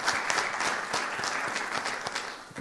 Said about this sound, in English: So please give a round of applause for everybody for that and all the resources they have.